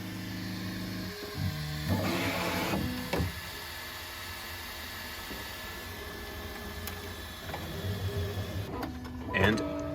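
3D printer printing parts for a life-sized Star Wars K-2SO droid: whirring stepper-motor tones and buzzy moves rise and fall over a constant fan hum, with brief louder bursts near the end.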